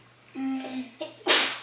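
A single sharp sneeze bursts out near the end, preceded by a short voiced intake and vocal build-up; close and fairly loud in a quiet home setting.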